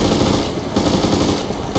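Rapid automatic gunfire hammers at a helicopter in a video game, loud bursts of shots running together with a brief pause midway.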